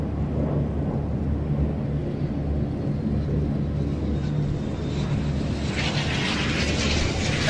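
Red Arrows jets flying the airfield circuit and turning final at an air show, a steady broad roar of jet engine noise that swells with a brighter, louder whine toward the end, no talking.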